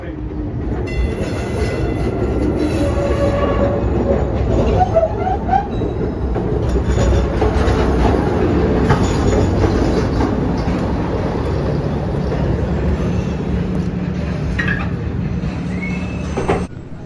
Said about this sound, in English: the extension of the Boston Red Line is a classic trolley line known as the Ashmont-Mattapan High Speed Line